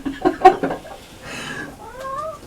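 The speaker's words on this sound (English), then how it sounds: "Can you hear him meowing?" A male cat meows indoors, giving a couple of drawn-out, rising and falling cries after a short burst of rustling and knocking.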